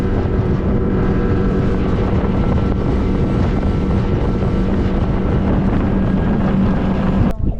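Loud, continuous motorboat engine roar with rushing wind and water noise, running steadily at speed on Lake Charlevoix before a brief clatter at the end.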